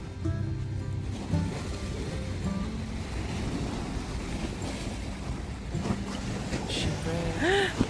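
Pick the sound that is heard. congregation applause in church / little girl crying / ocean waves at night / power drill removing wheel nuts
ocean waves at night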